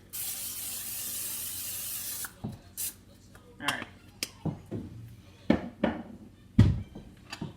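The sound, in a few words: cooking spray on a pan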